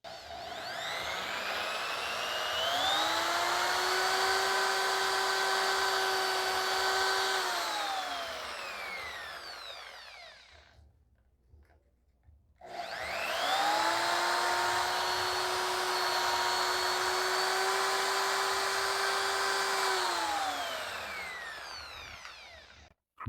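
A power tool sands a metal fan shaft in two loud close bursts, each spinning up to a steady high whine, holding, then winding down, separated by a brief near-silent pause.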